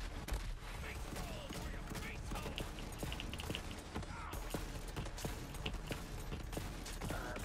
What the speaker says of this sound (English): they are shooting the heck out of us